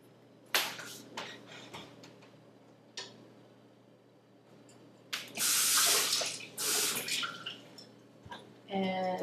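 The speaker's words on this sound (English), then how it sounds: "I might actually put a little bit of water in just to sort of thin it out a little bit as well" Water from a tap poured into homemade pesto to thin it, brief splashing bursts in a kitchen with clinks and knocks between them, close and moderately loud, with a person talking at the end.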